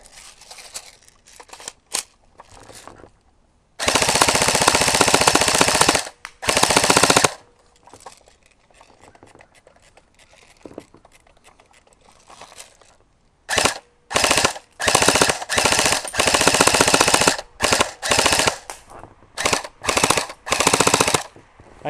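An AGM M14 airsoft rifle fires in long rapid automatic bursts outdoors, loud close rattling strings of shots separated by quiet pauses, then a run of short bursts near the end.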